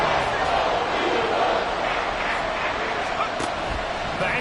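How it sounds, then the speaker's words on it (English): A football stadium crowd roaring loudly during a third-and-long play, a dense, sustained wall of cheering that holds steady throughout, with commentary voices underneath. "This crowd turning up the decibel level."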